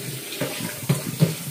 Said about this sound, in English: Let me put some hot water in there.